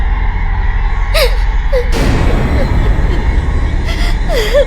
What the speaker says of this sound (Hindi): ये अजीब से रोने की आवाज कैसी?